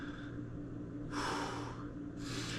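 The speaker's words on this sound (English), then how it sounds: "if breathing is difficult like this" Heavy, laboured breaths after an abdominal workout with grip, two loud gasping exhales standing out over a low steady hum, close to the mic and without speech.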